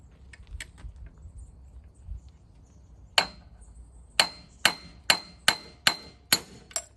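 A hammer striking a nut threaded on a chainsaw flywheel to knock it loose, a few light taps followed by a run of sharp metallic blows about every half second, close and loud, no talk.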